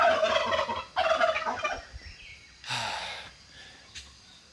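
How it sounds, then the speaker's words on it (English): A rooster gives hoarse, strangled calls in a few close bursts with pauses between them, the sound rough and uneven rather than a clean crow. "What's wrong with the rooster?"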